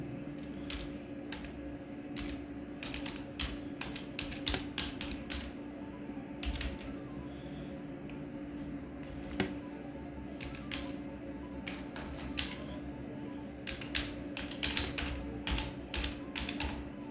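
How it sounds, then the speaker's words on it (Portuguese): Someone types an account name on a computer keyboard, with a steady patter of close key clicks and a few sharper taps over a faint background hum, no talking. "eu vou digitar aqui a minha conta"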